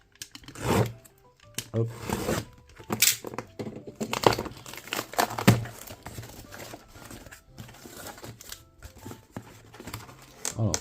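A parcel of Pokémon items being opened, close crinkling and tearing of packaging in irregular bursts, with a brief spoken word.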